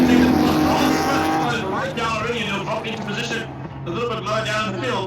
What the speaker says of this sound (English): Jordan, take them off the line. Here we go.